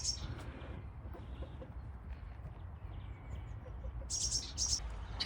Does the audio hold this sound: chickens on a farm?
yes